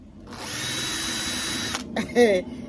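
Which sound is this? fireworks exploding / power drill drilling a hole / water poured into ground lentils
power drill drilling a hole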